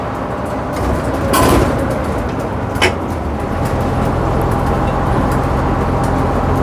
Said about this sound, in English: Got a pneumocyclic gearbox, which makes all sorts of interesting noises.